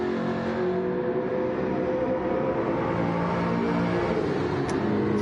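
A Jaguar race car roars through a tunnel during a racing event, its engine a loud, sustained, echoing drone that fills the space, with a faint whine rising near the end.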